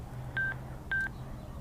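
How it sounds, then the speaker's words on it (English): Two short, identical electronic beeps from a Sena 20S Bluetooth motorcycle headset signal that it has connected, evenly spaced and clear over a low, steady background hum. "It connected. You heard the beep"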